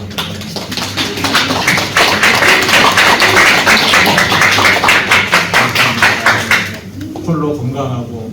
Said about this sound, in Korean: 우리 환영의 박수 한번 드리죠.